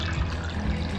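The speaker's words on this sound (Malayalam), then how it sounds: "1/4 ഗ്ലാസ് വെള്ളം ഒഴിക്കും." Water is poured into a cooking pot while making pumpkin pachadi, a short, continuous splashing pour at close range.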